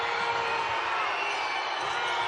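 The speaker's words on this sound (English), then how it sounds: "Crowd really trying to get behind Turkey." A basketball arena crowd roars steadily in support of Turkey during a Japan versus Turkey qualifier, a dense wash of cheering with no break.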